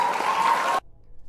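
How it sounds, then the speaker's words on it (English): Canned applause sound effect, a dense burst of clapping and cheering that cuts off abruptly after under a second. "Where's the fucking applause?"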